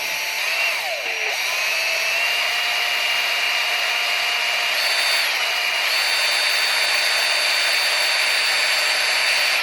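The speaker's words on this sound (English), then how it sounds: "Now keep drilling and pull back." A power drill bores pilot holes in wood outdoors on an allotment. It whines steadily and loudly throughout, with brief pitch shifts as the bit bites and pulls back.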